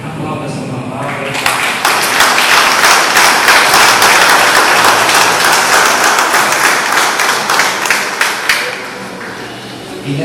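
A church congregation bursts into loud, sustained applause, many hands clapping densely close by for several seconds before the clapping thins and tapers off.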